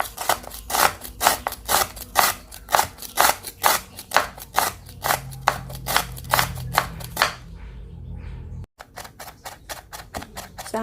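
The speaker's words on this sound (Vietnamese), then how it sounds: "Sả giờ thì chúng ta đã băm nhuyễn rồi nè các bạn." A knife chops lemongrass finely on a cutting board in a home kitchen, sharp rhythmic taps coming quickly and evenly at close range, slowing toward the end with a brief knock and scrape.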